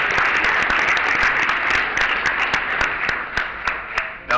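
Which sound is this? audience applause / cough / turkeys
audience applause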